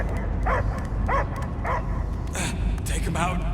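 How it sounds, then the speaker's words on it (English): A possessed dog creature barks and yips in Marvel's Guardians of the Galaxy video game, several short barks in a rough rhythm over a dense rumbling game soundscape. "I hear only barking."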